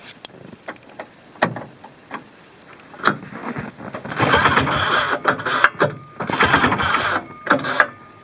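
A 1970 Ski-Doo Olympique 299 snowmobile with a straight-piped engine is cold-started. Scattered mechanical knocks and pull-start clatter give way to loud, ragged, uneven engine bursts that sputter and surge close by.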